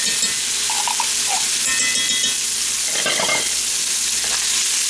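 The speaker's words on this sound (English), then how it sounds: "Stir that together" Diced tomatoes and tomato paste being stirred in a sizzling pan for homemade lasagna sauce, with a steady frying hiss and a burst of scraping stir strokes near the end, close and fairly loud throughout.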